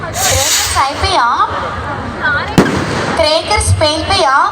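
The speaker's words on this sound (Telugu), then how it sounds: "క్రేకర్స్ పేలిపోయా?" At an outdoor cricket tournament prize ceremony, firecrackers go off with a sharp crack and crackling bursts. They are partly masked by a loudspeaker announcer and crowd chatter running throughout.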